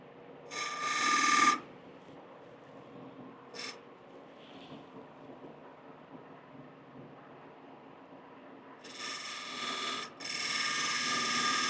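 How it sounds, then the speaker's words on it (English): A wire burner rubs against spinning cherry wood on a lathe, giving three harsh friction bursts: one about a second long, a brief flick, then a longer grinding stretch, all over a quiet steady machine hum. "So there's just a couple little V grooves with my skew that I'll use the wire burner for."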